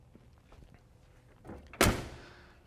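Passenger door of a 1970 Mercury Cougar opening, with a soft latch click followed by a single sharp, close thunk that rings briefly and fades, over a quiet background.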